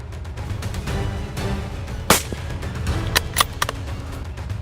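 A rifle shot at a wild boar during a hunt cracks sharply once midway through steady outdoor background noise, followed by a few fainter sharp knocks.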